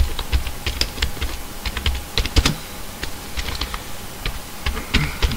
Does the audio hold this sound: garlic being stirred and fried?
no